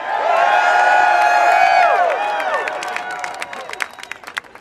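A campaign rally crowd in Seattle cheers loudly and steadily with whoops and shouts, then breaks into scattered clapping that thins out toward the end.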